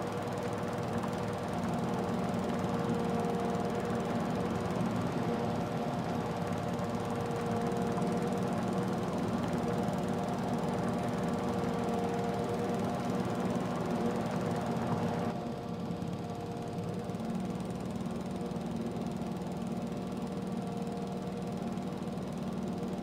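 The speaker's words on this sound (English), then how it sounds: "so we'll keep on mowing" A zero-turn lawn mower in Farming Simulator 22 runs continuously while mowing grass at a town school and fire station, a steady, rumbling engine drone that shifts slightly in tone partway through, with no talking.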